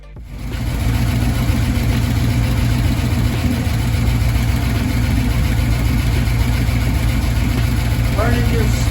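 The engine of a Chevrolet Caprice with a newly swapped low-mileage LT1 V8 comes up and then idles steadily and loudly while burning off smoke, a continuous close rumble, with a voice briefly audible.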